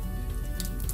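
Mustard seeds popping in a small pan of hot oil, a soft continuous sizzle with faint scattered crackles and pops, close and quiet.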